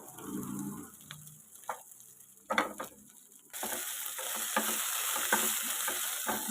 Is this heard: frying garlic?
yes